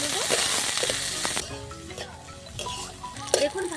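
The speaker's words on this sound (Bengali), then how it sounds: "দিয়ে দেব পেঁয়াজ কুচি, দিয়ে দিচ্ছি কাঁচা লঙ্কা, মাঝখান দিয়ে কেটে নিয়েছি কাঁচা লঙ্কা। দিয়ে ভালো করে নাড়িয়ে একটু ভেজে নেব।" Chopped onion and slit green chillies fry in hot oil in a pan, giving a bright sizzle with scraping stirs and light clinks of a spoon. A brief stretch of what may be a voice sounds beneath it.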